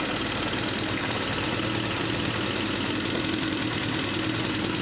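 A Suzuki RF900 motorcycle engine idles steadily and loudly close by, with a continuous rumbling drone and no talking; any backfires are not distinct.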